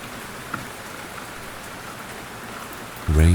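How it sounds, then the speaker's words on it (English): Soft, steady rain patters evenly on a surface in a quiet night street, a gentle continuous hiss, until a low rumble comes in abruptly at the very end. "The rain is soft on her hood."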